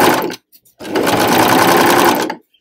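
A sewing machine runs a quick burst, pauses, then stitches steadily for about a second and a half along the zip side of a skirt, its rapid needle chatter close and loud.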